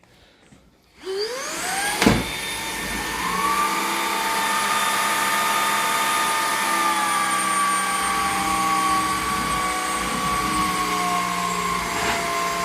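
A cordless vacuum cleaner switches on after about a second, its motor whining up to a steady high-pitched drone that runs loud and continuous for the rest of the clip, with a brief click near the start.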